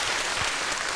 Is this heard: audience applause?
yes